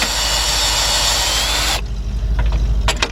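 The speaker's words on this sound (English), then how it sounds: "Then we're gonna get our cordless gun." A cordless impact gun works on fasteners of a Lincoln LS during heater control valve replacement, a loud continuous whirring buzz that stops abruptly, followed by a few faint clicks and taps.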